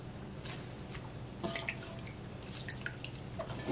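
Oyster mushrooms are rinsed in cold water after blanching; water trickles and splashes softly as they are handled, with occasional light clinks and drips.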